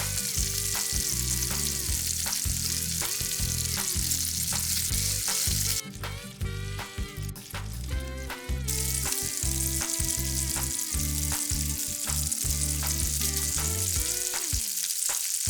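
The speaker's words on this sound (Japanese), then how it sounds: "焦げないように気をつけながら焼いて" Bacon-wrapped shiitake frying in a frying pan, a continuous loud sizzle under steady background music, with the crackle briefly easing midway before returning.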